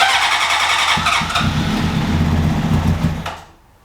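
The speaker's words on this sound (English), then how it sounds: "We have a running motorcycle now." A 2003 Honda CBR600RR, revived after sitting 18 years, cranks and catches, its engine running loud and close with a ragged, uneven note before cutting off abruptly near the end.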